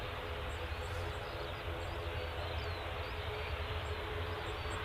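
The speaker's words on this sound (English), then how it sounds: "Next out's the Ryanair." A Ryanair Boeing 737-800 MAX airliner departing for Tenerife South gives a steady, fairly distant broadband engine roar with a low rumble, heard at an airport alongside faint background voices.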